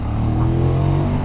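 A QJ Motor SRK900 motorcycle engine revving hard while riding, a loud, close, rising mechanical drone with a brief swell in the middle and steady wind-blown roar beneath.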